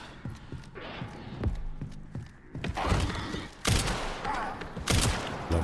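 Gunfire in the horror game Resident Evil Requiem, a string of sharp, irregular shots and heavy thuds, some in quick bursts, loud and close amid game ambience.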